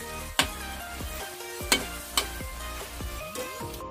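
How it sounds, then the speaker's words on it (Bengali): Cashews and raisins sizzle in hot oil in a pan for Bengali vegetable fried rice, a steady close frying hiss broken by a few sharp scraping stirs of a spoon. "এই তেলে আমি একটু কাজু কিশমিশ দিয়ে দেবো। দিয়ে ভালো করে একটু নাড়াচাড়া করে নেব। কাজু কিশমিশটা একটু আমি ভাজা ভাজা করে নেব।"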